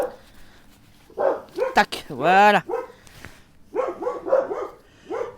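A female dog, unhappy with a neighbour, lets out a few sharp barks and a rising whine in short bursts close by, while a person talks briefly between them.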